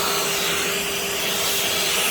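A Milwaukee Fuel wet/dry vacuum cleaner runs continuously with a steady, loud, close whooshing roar of suction.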